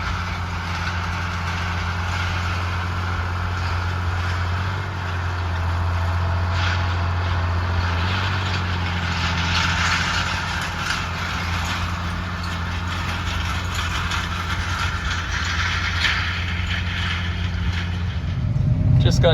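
A parked tractor idles in a disced harvest field, giving a steady low engine drone that holds level throughout with faint outdoor noise over it.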